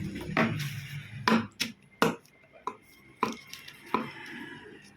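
Scissors snip through a paper blouse pattern in a quiet room, a handful of separate crisp cuts and rustles spaced irregularly, close and fairly soft.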